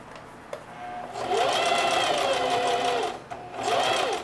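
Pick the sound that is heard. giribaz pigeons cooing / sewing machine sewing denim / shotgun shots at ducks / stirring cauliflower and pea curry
sewing machine sewing denim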